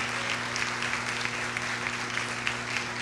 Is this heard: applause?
yes